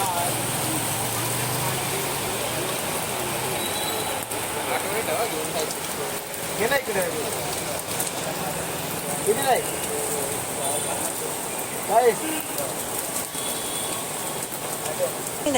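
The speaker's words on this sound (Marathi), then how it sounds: "पाऊस आता बरं आहे पाऊस" Steady rain falls on surfaces outdoors, a constant hiss with scattered drop impacts and occasional louder patters, continuing evenly throughout.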